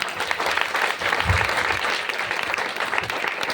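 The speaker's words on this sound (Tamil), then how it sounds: "உண்மையிலே கை தட்டி பாராட்டுங்க" Audience at a temple speech breaking into sustained, dense applause, a steady wash of clapping from a crowd that stays loud throughout.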